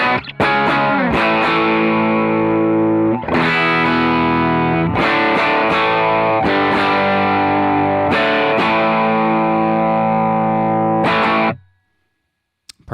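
Electric guitar through a Coppersound Foxcatcher pedal on its drive setting alone, playing loud, saturated chords and riffs in sustained bursts that ring out and then stop, close and without talk.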